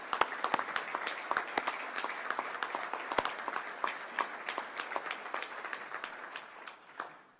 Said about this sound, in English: let us just clap for you and thank you